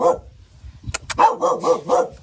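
A dog barks in a quick run of sharp, loud barks with short yips, close by and alone without talk, at feeding time as porridge is served.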